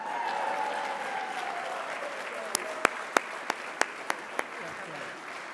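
An audience at an awards celebration dinner applauds loudly in a steady wash of clapping. Several sharper, distinct claps pop out near the end.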